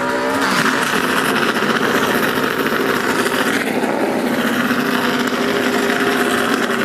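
Loud, continuous roar of race car engines revving and idling close by in a race garage at Atlanta, with dense mechanical rumble and no talking.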